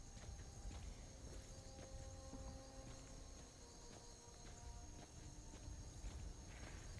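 Horse hooves clip-clopping in a video game, a faint, steady run of soft hoof steps over a low background hum, with a few brief tonal game sounds scattered through.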